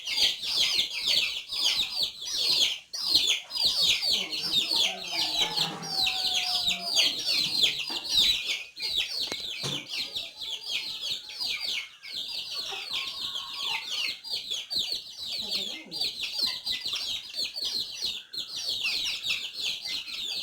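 Native backyard chickens, a hen among them, cluck and chirp steadily and nearby, a dense run of rapid high peeps and clucks over faint background noise.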